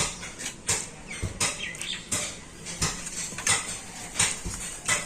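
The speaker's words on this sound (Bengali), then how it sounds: "লিকুইড দুধ দিয়ে ব্যাটারটা আবার আমি ভালো করে গুলে নেব" Sweet batter being whisked with added milk in a bowl for a dessert, giving repeated scraping and clinking of a utensil against the bowl in quick irregular strokes, close and moderately loud, with no talking.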